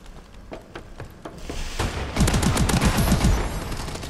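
Underarm-mounted machine gun in Call of Duty Advanced Warfare: sparse single shots and clicks at first, then a loud sustained rapid burst of automatic fire with booming impacts over the last two seconds, no talk.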